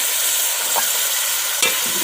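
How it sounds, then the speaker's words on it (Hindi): Chicken with turmeric, red chilli and masala spices fries in a pan for a chicken aloo salan, a loud steady sizzle close by with two quick scraping stirs of a spoon. "अच्छी तरह से भून लेंगे ताकि मसाला जार जो है चिकन के अंदर अच्छी"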